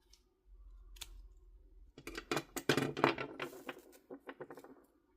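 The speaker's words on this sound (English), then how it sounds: "We're just going to pull through and cut the yarn." Scissors snipping yarn at the end of a crocheted scrubby, a low handling rustle followed by a close cluster of sharp metallic clicks and snips, with no talking.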